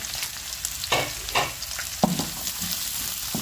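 Garlic, onion, chili and ginger sauté in a hot pan, with a steady close sizzle and a spatula scraping and stirring through it in irregular strokes.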